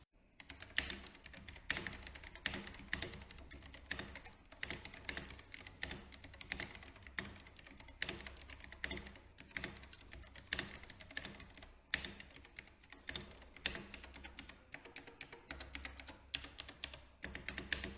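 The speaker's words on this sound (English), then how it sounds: "With the MX Brown switches installed, the keyboard is quiet to use" Steady, brisk typing on a Ducky One 3 keyboard fitted with MX Brown switches, a dense run of close, soft clicks and taps with an occasional heavier keystroke, heard alone without talk.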